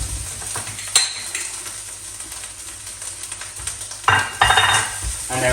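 Spring onions stir-fried with light soy sauce in a pan for crispy chilli beef, a continuous sizzle with utensil scrapes and a louder burst of frying near the end, no talk.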